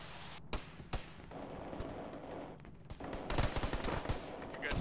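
Gunfire in a military team-based video game: sharp shots pop out at scattered intervals, then thicken into dense, louder bursts near the end over a steady background rumble.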